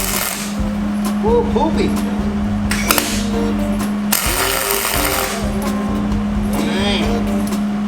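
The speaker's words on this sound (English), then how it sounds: "I'm gonna mount them and weld them to the hinges. All right, let's get these welded on." Hinges are welded onto a Tudor sedan hotrod body being channeled, with a steady electrical hum and crackling bursts of welding that come and go. The close weld is porous, and people talk at times over the sound.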